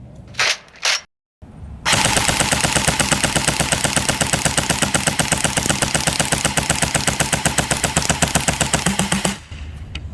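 An Umarex AER16 electric .177 BB rifle fires full-auto at a target about 10 yards off, starting with a few quick single shots, then a loud, rapid, unbroken mechanical rattle of shots lasting around seven seconds before stopping.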